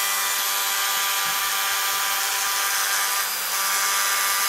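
Power tool enlarging and rounding a hole in a wooden ship's pulley block, a loud continuous high whine and grinding rasp at close range, steady throughout with slight shifts in pitch.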